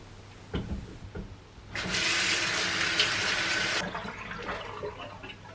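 Running tap water splashes steadily for about two seconds while foam face wash is rinsed off, framed by quieter bathroom handling sounds before and after. No one speaks.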